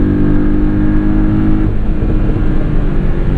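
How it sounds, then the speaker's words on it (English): Turbocharged engine of a 2017 Porsche 718 Boxster S PDK tuned by MTM heard from inside the car as the driver lifts off the throttle, a loud steady low drone with a whooshing flutter from the recirculation valves. "you have a lovely noise from the recirculation valves"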